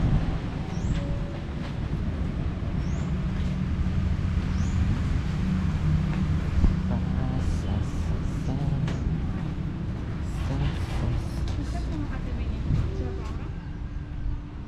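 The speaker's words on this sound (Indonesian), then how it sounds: "Ini suasana stasiun Tulungagung." Busy ambience at Tulungagung railway station in Indonesia, a steady bed of crowd murmur and rail-yard hum with occasional chimes and clatter, people talking nearby throughout.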